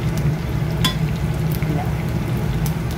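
Plenty of garlic frying in rendered pork fat in a pan for chili garlic bagoong, a close, steady sizzle with an occasional stir or clink from a utensil.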